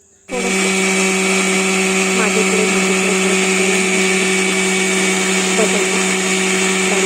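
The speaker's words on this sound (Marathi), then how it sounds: "आता ह्याला बारीक करून घेऊया बघा मिक्सरवरून बारीक करताना" A mixer grinder whirs loudly and steadily at high speed grinding bottle gourd, starting abruptly and running continuously without pause.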